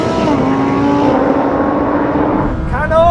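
A Lamborghini Huracan pulling hard in a drag race against an Audi R8 and Nissan GT-R, a loud sustained engine roar climbing steadily in pitch, with a brief shift-like dip near the end and wind buffeting throughout.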